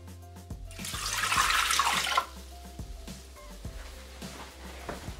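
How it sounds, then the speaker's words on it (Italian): Water poured into a Thermomix TM6 mixing bowl, a bright splashing gush lasting about a second and a half, then softer drips and small knocks against the bowl, close and fairly quiet. "Iniziamo la ricetta mettendo all'interno del boccale l'acqua."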